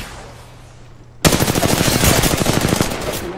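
Rapid blaster-style gunfire erupts suddenly after a quiet moment in a Star Wars video game, a loud, dense burst of repeated shots striking the player and continuing steadily to the end.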